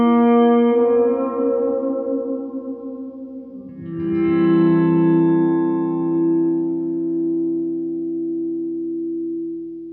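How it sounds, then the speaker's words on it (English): A sustained guitar chord blooms with a slow reverb swell from an EHX Oceans 11 pedal in green mode with the mix set high, the washy tail building and lingering, then a second chord swelling in and fading gradually. "in the green mode, we get the reverb swelling in"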